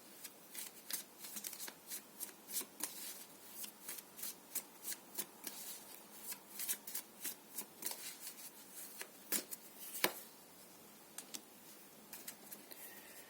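Tarot cards shuffled by hand in a quiet room, a steady run of soft, crisp riffles and flutters repeating for over ten seconds with one sharper snap near the end, no talking.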